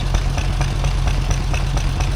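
Scammell Hercules lorry with a Meadows engine idles at a steam rally, a deep, steady rumbling chug with a regular pulsing rhythm, close and continuous.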